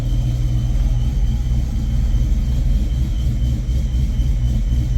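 A 1995 Ford Mustang GT SN95 V8 idling after it has been running for about twenty minutes, a steady, close, low rumble with no revving.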